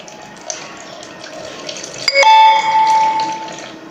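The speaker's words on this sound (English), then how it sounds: "the second part of this experiment is measure the tap water using a measuring cup" Tap water runs into a measuring cup for a lab measurement, starting with a soft trickle and a faint clink, then swelling into a louder, ringing pour that rises in pitch as the cup fills.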